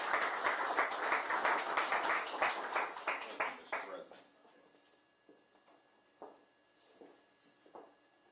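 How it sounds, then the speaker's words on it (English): An audience at a Southern University event gives a round of applause, dense clapping for about four seconds that stops abruptly, followed by scattered faint claps and quiet room sounds. "Let's give him a round of applause"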